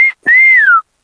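A person whistles two notes, a short steady tone and then a longer, clear tone that rises slightly and slides down at the end, loud and close with nothing else heard.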